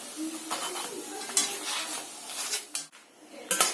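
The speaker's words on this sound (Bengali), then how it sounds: "আমি এইভাবেই পরোটাগুলোকে ভাজি" Parottas fry in oil in a pan, giving a soft sizzle under clinks and scrapes of a metal spatula against the pan, with intermittent handling sounds close by.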